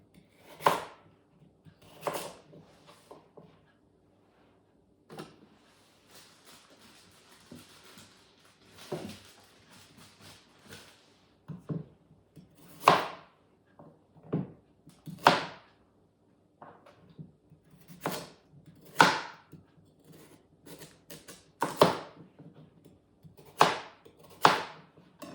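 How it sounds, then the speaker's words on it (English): Very large carrots being chopped into chunks on a board, a series of sharp, close knife knocks coming in irregular bursts with short pauses between them. "So I'm just going to top and tail them and then chop them into chunks."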